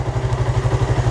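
Suzuki Satria FU 250 engine fitted with an RX King carburetor idles steadily after a single kick start, a loud, close, rapid low thumping pulse with metallic clatter, running on its own without throttle.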